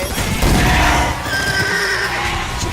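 Horse whinnies loudly amid a Call of Duty trailer mix, a drawn-out neigh rising over dense cinematic noise and rumble, with faint hoof clatter underneath.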